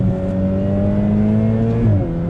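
Ferrari F8 Spider sports car cornering hard, its engine holding a steady loud drone with bright harmonic tones that shift pitch near the end as revs change.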